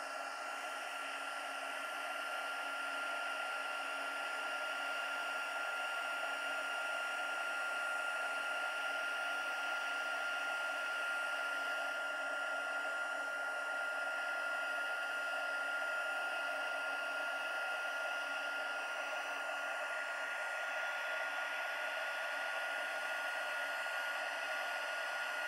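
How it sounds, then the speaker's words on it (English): A craft heat tool blows steadily over watercolour daisies to heat set them, giving a constant, even whirring hiss with a high motor whine that holds unchanged for about 25 seconds. "to heat set that, all you do is bring in your heat tool."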